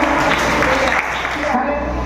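Applause from a church congregation at a testimony service, a steady, dense wash of clapping that fills the whole moment at a loud, close level.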